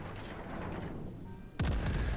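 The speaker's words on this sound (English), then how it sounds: "Oh, another salvo on this Conqueror" A warship's main guns fire a salvo in a naval battle game, a sudden loud booming blast that cuts in after steady background rumble and rolls on heavily to the end.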